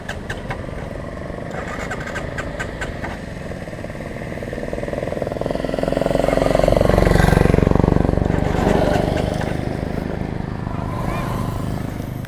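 A Suzuki Gixxer motorcycle with a carburetor starts up and settles into a close, steady idle. The engine swells in a revving surge midway, then falls back to a rough, even running note.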